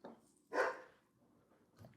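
A dog named Blitz gives a few short barks indoors during a podcast recording, one louder bark between fainter ones, quiet and somewhat distant.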